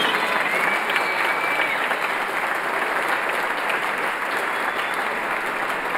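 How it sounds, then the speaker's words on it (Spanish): A concert audience applauding the performers, including a youth symphonic band, at a closing concert: dense, sustained clapping from a large hall crowd, steady and loud for the whole stretch. "A todos ellos nuestro aplauso"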